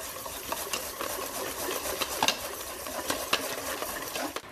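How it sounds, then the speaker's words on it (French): Vanilla cupcake batter is stirred vigorously after flour and baking powder go in, giving a steady close scraping and swishing with small clicks of utensil against bowl, no talking. "Je vais ensuite mélanger ma farine et ma levure dans ma préparation de base. Et là, je vais à nouveau mélanger énergiquement."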